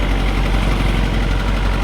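A tractor engine idles close by with a steady, low, throbbing rumble that holds constant throughout, with no talk over it.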